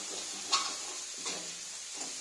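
Maggi noodles being stirred and tossed in a hot pan, a steady sizzling hiss with a few soft scraping stir strokes at roughly even intervals, close and fairly quiet.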